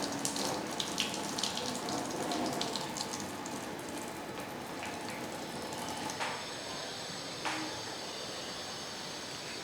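Steady hiss of water running from a tap in a school science lab, a continuous splashing stream at moderate level with a few brief clicks and knocks over it.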